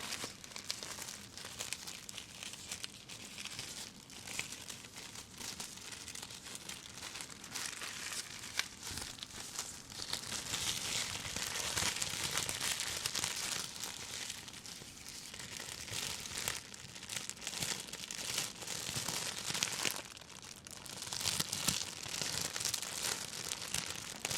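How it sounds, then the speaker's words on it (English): Continuous crinkling and crumpling of material, held close and fairly loud, rising and falling in dense texture for the whole stretch without any voice. "Just love those crinkling sounds."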